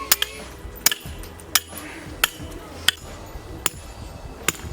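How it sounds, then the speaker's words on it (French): A hammer striking while a haunted house attraction is being built in Ambès: about eight sharp, ringing blows at uneven intervals, close by, over a low background murmur. "Le marteau."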